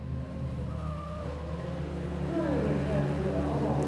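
Rallycross cars, including a Toyota, race through a chicane at a 1994 European Championship round in Holland. Engines drone and rise in pitch, heard from a distance under a commentator talking.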